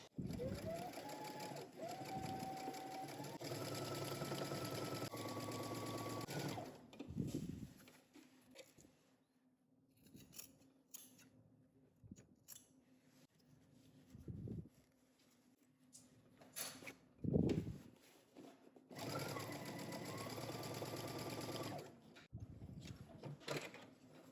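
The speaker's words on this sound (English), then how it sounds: "you're gonna head to your sewing machine and you're going to understitch" A sewing machine understitches a jumpsuit facing in steady bursts, stopping and starting with quiet handling noises and brief pauses between stretches of stitching.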